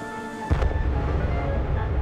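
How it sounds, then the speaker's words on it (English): An emergency detonator cap on a railway track goes off as an engine runs over it in a gorge, a single loud bang at once followed by a heavy, sustained rumble that carries on for the rest of the moment. "The bang echoed round the gorge."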